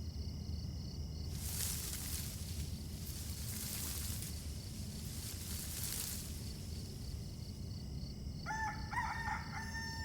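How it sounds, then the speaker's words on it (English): A rooster crows once near the end, a fairly close, clear call after a stretch of breathy background noise, set in a romance game scene with no speech. "The rooster already crowed."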